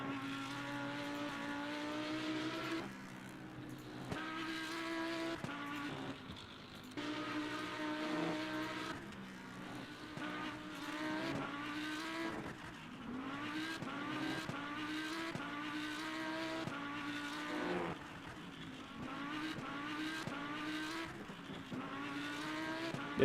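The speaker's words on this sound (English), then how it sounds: "Oh, I hear an LMP." In the sim racing game Le Mans Ultimate, an LMP prototype race car runs on track. A steady high-pitched engine note rises and falls through repeated gear changes, with no talk.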